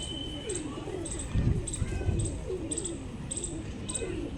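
Pigeons kept by a pigeon fancier in the Old City, cooing in low, soft repeated calls close by, with faint chirps and insect-like ticking in the background.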